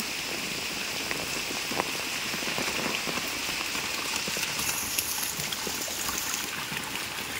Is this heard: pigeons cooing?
no